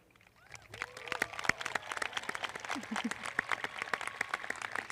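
An audience at a Boonsboro high school graduation ceremony applauds retiring teachers with steady, dense clapping that builds and holds. Crowd murmur and a few voices sit under it.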